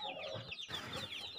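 Young free-range chickens cluck and chatter in a pen, a busy overlapping string of short, high clucks and squawks close by, with a brief lull midway.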